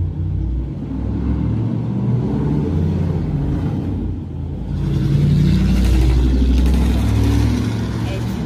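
Big engines rev and rumble in a loud, continuous low drone, swelling louder in the second half, with voices talking over the engine noise at an outdoor gathering in Campbellton.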